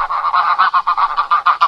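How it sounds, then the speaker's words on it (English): A goose honks in a rapid run of about a dozen loud, nasal calls, close and clear with no other sound. "Goose."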